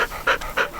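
A young search and rescue dog in training pants rapidly and close by, three quick breathy bursts in steady rhythm with no other sound.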